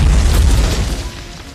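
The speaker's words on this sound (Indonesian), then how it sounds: "Belum sempat diledakkan, tank Tiger keburu nembakin meriam." A Tiger tank fires its cannon in a wartime battle scene, one loud close boom with a heavy low rumble that slowly fades.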